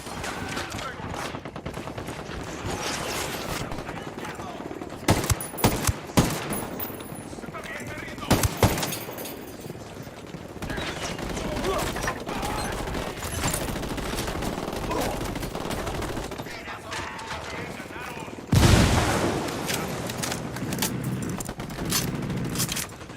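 Sniper and rifle gunfire in the video game Ghost Recon Wildlands around a freight yard, with steady crackling shots throughout, a few sharper loud cracks standing out, and voices talking over the battle.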